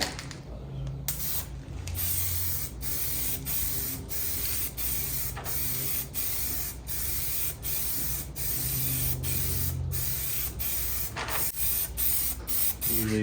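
Spray paint hissing from an aerosol can while coating a part of a Nova during transmission work, repeated bursts of close, loud spraying separated by short pauses.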